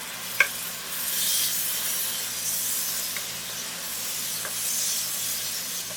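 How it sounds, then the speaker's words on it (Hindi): Mutton broth hits sizzling spices in a hot pot, raising a steady broad hiss and steam sizzle that holds at an even level after a brief initial clink. "दोबारा से इसके अंदर मटन ब्रॉथ यानी कि गोश्त की यखनी डालेंगे इसके अंदर"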